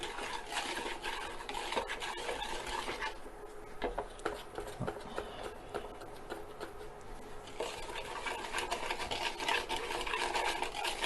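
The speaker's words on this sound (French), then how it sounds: "Je mélange." Sugar and custard powder being stirred together in a bowl, a soft continuous scraping and rubbing with faint clinks, quiet and close without talk.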